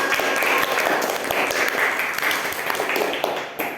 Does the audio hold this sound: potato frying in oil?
no